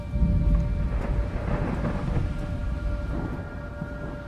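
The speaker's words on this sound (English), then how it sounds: "And then came the storm." A thunderstorm with heavy rain: a dense, steady roar of downpour with low rumbling thunder swelling throughout, loud and close, no voices.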